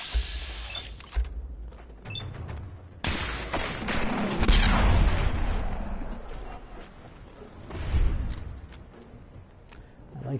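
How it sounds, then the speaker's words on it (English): A rifle in the Fallout 4 video game fires in VATS mode, producing several sharp, loud shots with rumbling blasts and echoing tails spread across the stretch. "I like how this rifle makes a pew sound in VATS"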